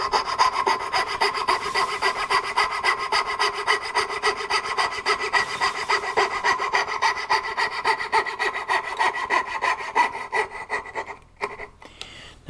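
A hand saw cuts through cherry wood with quick, regular rasping back-and-forth strokes, close and loud, continuing steadily before tapering off as the cut finishes, with no one talking.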